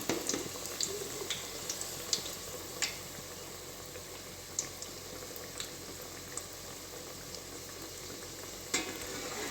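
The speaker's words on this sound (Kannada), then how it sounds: "ಚೆನ್ನಾಗಿ ಅದು ಕಂದು ಬಣ್ಣ ಬರೋ ಥರ ಫ್ರೈ ಮಾಡಬೇಕು ನಾವು" Badam puri dough fries in hot oil until golden brown, a steady bubbling sizzle heard close, broken now and then by light clicks and taps of a utensil, with no talk.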